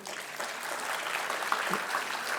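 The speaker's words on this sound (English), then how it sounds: "let's us give a round of applause to Professor Lim." An audience claps steadily for a couple of seconds after an inaugural lecture, a dense, sustained round of applause in a large room.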